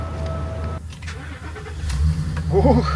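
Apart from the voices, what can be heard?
rented Ford truck starting and driving off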